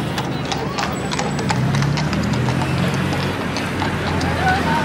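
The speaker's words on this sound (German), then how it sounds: "So, da haben wir zwei Polizisten auf dem Pferd." Hooves of two police horses clip-clop on pavement in front of the Eiffel Tower in Paris, a steady close clatter of steps amid crowd chatter and people talking nearby.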